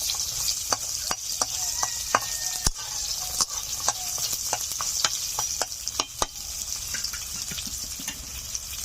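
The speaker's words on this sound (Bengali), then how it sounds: "দেখুন ডালের বড়া হালকা লালচে লালচে হয়ে এসছে, তার মানে বুঝে নিতে হবে বড়াটা ভাজা হয়ে গেছে।" Lentil fritters fry in hot oil with a constant sizzle, broken by scattered sharp crackles and pops at an irregular rhythm, close by and with no talking.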